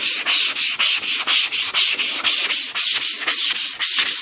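Fine 220 grit sandpaper rubs back and forth across a wooden clock piece in quick, even strokes, about four per second, a close, steady rasping with no talk.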